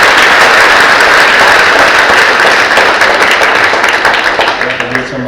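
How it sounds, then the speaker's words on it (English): Loud, dense applause from a school audience at a spring concert honoring district honor band students, continuous and fading slightly at the close. "Give these ladies a round of applause."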